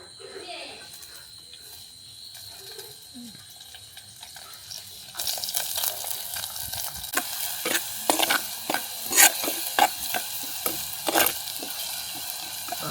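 Chopped onion fries in hot oil in a pan for a village-style egg curry. A soft sizzle grows much louder about halfway through, broken by scraping and clattering stirring strokes, with faint talk in the background.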